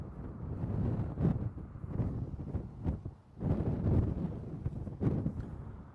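Strong gusts batter the microphone beside a lake near a mountain wildfire, a loud, low rumbling roar that surges and dips in waves with a brief lull midway.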